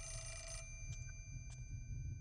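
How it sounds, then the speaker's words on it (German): An old telephone bell rings in the horror video game Project Zero, a bright metallic trill of a few short bursts, fairly quiet over a low ambient hum with no talking. "Wo ist hier ein Telefon?"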